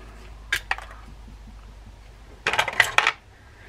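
A metal rotor is pulled off a Penn Fierce III spinning fishing reel, giving a couple of light metallic clicks followed by a quick cluster of small jangling taps, close and fairly quiet.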